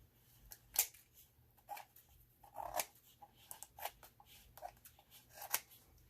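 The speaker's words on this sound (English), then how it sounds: "I think I'm just gonna take the scissors and get this side." Scissors snip through paper while making a covered notebook, a series of irregular, crisp cuts, close and fairly quiet, with rustling between snips.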